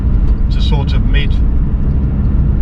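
A 1985 Ford Fiesta 1.1 Popular Plus drives on Derbyshire country lanes, giving a loud, steady low engine and road drone heard from inside the cabin, with someone talking over it.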